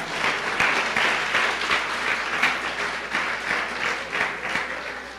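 A church congregation applauds, dense steady clapping that fills the room at close range for the whole stretch, with no voices standing out.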